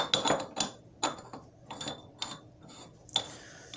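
A pipe is threaded into a coupling cap by hand, producing a series of separate close scraping, ratcheting clicks in an uneven rhythm of about eight short bursts.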